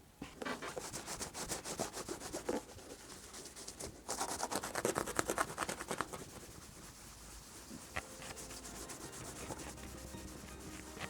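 A worn-out shoe being restored in gray is rubbed and polished with quick, rhythmic brushing strokes, close and continuous with brief pauses.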